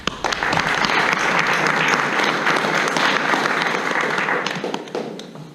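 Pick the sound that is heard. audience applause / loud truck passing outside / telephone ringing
audience applause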